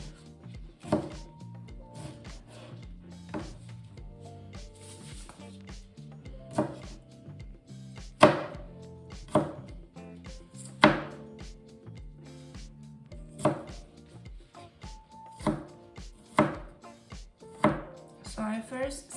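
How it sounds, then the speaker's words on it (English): A knife chops a cucumber into mince on a cutting board for Taiwanese pickled cucumbers, giving irregular crisp, close knocks that come in short bursts with pauses between them. "And then just chop it into mince, or depends on how you like it."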